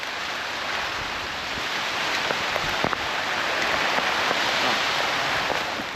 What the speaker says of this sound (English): The rain is just starting to come back down